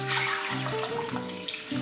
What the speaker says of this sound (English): Now I'm gonna add my chicken stock in here.